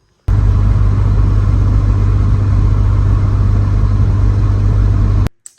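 BMW E46 M3 engine idling while warming up after an expansion tank replacement, a loud steady low rumbling drone close by that starts abruptly and cuts off near the end.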